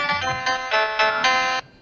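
A bright, ringtone-like electronic melody from the soundtrack of the Dreamcast video game Defender, a loud run of pulsing synthesized tones in a steady rhythm that cuts off abruptly near the end.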